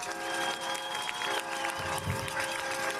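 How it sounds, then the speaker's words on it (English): A crowd at a 2024 high school football game applauds and cheers for the senior band members, a dense, continuous wash of clapping with some crowd noise mixed in. "Another round of applause for our 2024 seniors."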